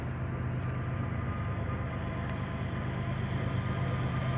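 A CSX autorack freight train rolls past, a steady low rumble and rush of wheels that holds level throughout without letting up.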